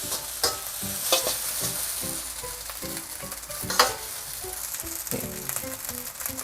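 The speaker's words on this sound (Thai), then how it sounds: "ผัดให้ข้าวแห้งหน่อยนะครับ" Rice being stir-fried with fermented tofu in a pan, a continuous close sizzle broken by rhythmic scraping and tossing of a spatula, no talking.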